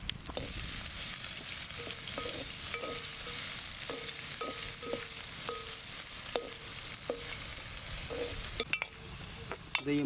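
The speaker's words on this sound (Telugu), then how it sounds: "నూనెలో వేసి బాగా దోరగా వేయించుకోవాలి." Veldt grape (nalleru) stems frying in hot oil, a steady broadband sizzle throughout with repeated scraping stirs from a spatula in the pan, no voices.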